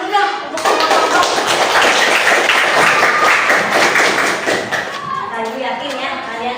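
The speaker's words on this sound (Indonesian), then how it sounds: "Tepuk tangan dulu dong untuk kelompok." Children clap for a classroom group after a demonstration of prayer movements, a dense burst of applause rising sharply, holding steady for several seconds and then thinning out as it fades.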